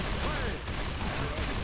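Desert Eagle pistol shots in Left 4 Dead 2 boom amid a loud, chaotic fight, several heavy blasts running together with the game's noise, with a voice talking faintly underneath.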